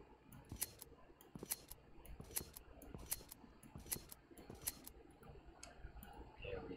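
Leather strips being cut in Minecraft with the MineFantasy2 mod: about six sharp, evenly spaced scissor-like snips ring out over a low, steady background hum.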